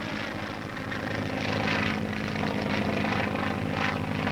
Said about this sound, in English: Boarding laboratory planes, they go aloft to check book learning with practical experience.